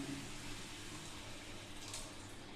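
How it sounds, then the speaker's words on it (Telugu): Milk pours steadily into a cooking pot for carrot halwa, a continuous close, even liquid rush with no break. "పాలు పోసేద్దాం."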